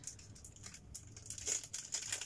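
Soft, irregular crinkling and rustling of a paper bag, close up, with a few louder crackles and no voices.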